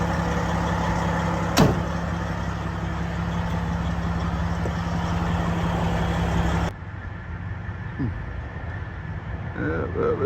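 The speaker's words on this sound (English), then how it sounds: "Just step on the strap while the truck warms up." A truck idles as it warms up, a steady low engine rumble running through most of the stretch before it drops away abruptly, with people talking over it.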